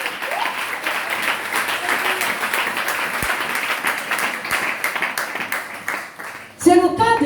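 A church congregation applauds to acclaim the Lord, with steady, dense clapping throughout, ending in a brief louder burst of sound.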